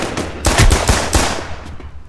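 Pistol gunfire in the video game War Inc: Battlezone comes as a quick burst of several loud, close shots followed by a fading echoing tail.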